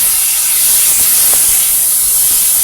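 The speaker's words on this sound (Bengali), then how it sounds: "যেহেতু ইলিশ মাছ একটু তেল তেল যেগুলো মাছের তেল বেশি সে মাছ বেশি ফুটে" Hilsa fish frying in hot oil, a loud continuous close sizzling hiss with faint pops scattered through it.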